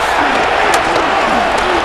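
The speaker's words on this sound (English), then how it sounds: "This crowd, they're trying to force a false start. What noise before 3rd and inches." A stadium crowd in Madden NFL 26, at a Chicago Bears versus Green Bay Packers game, roars loud and continuous before a third-and-inches snap, a dense wall of noise with a few brief sharp peaks.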